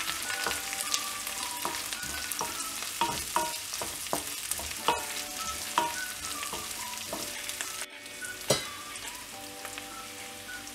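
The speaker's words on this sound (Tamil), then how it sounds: "இதில் கருவேப்பிலை ஆட் பண்ணிவிட்டு இதையும் நல்லா ஃப்ரை பண்ணி விட்டுடலாம்" Onions and curry leaves frying in oil for drumstick sambar, a steady close sizzle broken by repeated scraping stir strokes and brief clicks, with no voices.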